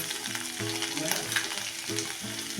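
Broken potato pieces sautéed with salt, sugar and grated ginger sizzle loudly and steadily in a pan, with stirring scrapes woven through and a faint low tonal hum underneath.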